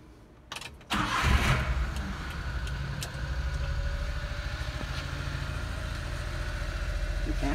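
A 1992 Japanese 4WD mini truck cranks briefly, then its engine catches and settles into a steady, close idle that holds to the end.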